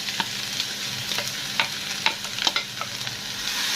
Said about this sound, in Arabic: واديها بقى تقليبه كده